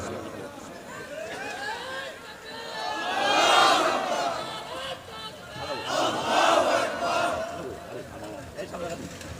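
A large crowd at an outdoor Islamic religious gathering (waz) in Narsingdi shouts slogans in unison, two swelling waves of chanting voices that rise and fall over a steady murmur.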